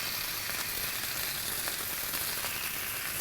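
Four half-strips of bacon sizzle and crackle steadily on a Blackstone griddle, a dense continuous frying hiss with scattered small pops throughout, close and fairly loud.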